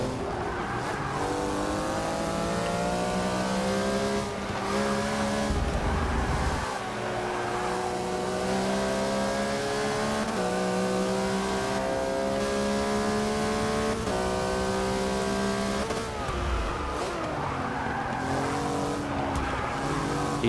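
A 2011 Porsche Flying Lizard 911 race car in Forza 6 revs hard and steadily, its engine pitch climbing and dropping through gear changes, with tire squeal in the corners, loud and continuous with no talk.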